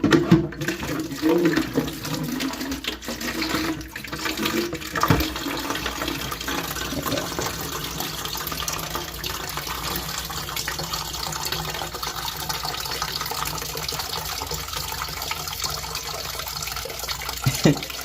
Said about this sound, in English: This part's always pretty satisfying to watch the water fall in the bucket.